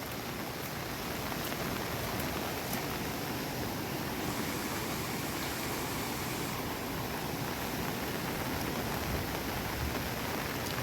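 Dense, roaring monsoon downpour of heavy rain in Gir, Gujarat, a loud and constant wash of noise with no pauses or voices.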